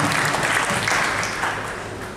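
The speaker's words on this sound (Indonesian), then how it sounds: "Kita berikan aplaus yang meriah untuk penandatangan SOP yang terjadi pada pagi ini." An audience applauds at an official SOP document signing ceremony during a governor's event, dense sustained clapping from many hands, loud and close, gradually tapering toward the end.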